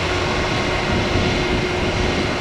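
A Southwest airliner roars on its takeoff run at Columbus, a loud, steady, broadband engine rumble with a faint steady whine, close and continuous without talk.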